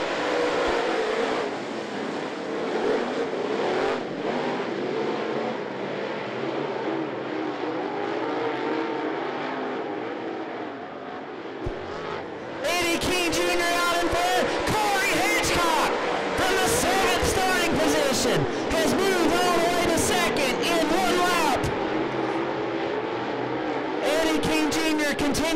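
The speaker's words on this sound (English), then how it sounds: "Eddie King Jr., Andy Standridge leading the field to green flag racing" Steel Head late model stock cars roar past at I-75 Raceway as the field takes the green flag, a loud, dense engine drone swelling midway, with an announcer's commentary throughout and a faint crowd.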